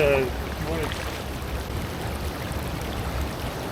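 Strong water rushes steadily through a gold-prospecting sluice in a Colorado creek, a constant broadband wash with no speech.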